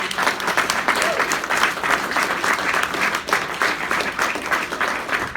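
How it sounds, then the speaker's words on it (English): A room full of people applauds Mr. Balish at a showcase event, steady dense clapping sustained loud and close throughout with no talk over it. "let's have a nice round of applause for Mr."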